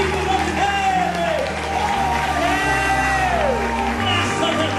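Church congregation applauding during a lively worship service, a broad wash of clapping and crowd noise running steadily under prominent voices and musical tones throughout.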